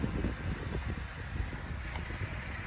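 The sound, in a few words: passing garbage truck with old air brakes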